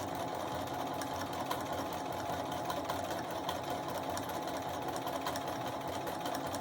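A sewing machine stitches a wrap-around onto a pillow at a fast, steady pace, its motor and needle making a continuous even whirr with no pauses.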